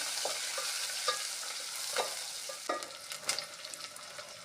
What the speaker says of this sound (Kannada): ಹಾಕಿ ಎಲ್ಲ ಚೆನ್ನಾಗಿ ಫ್ರೈ ಮಾಡಿಕೊಳ್ಳಿ.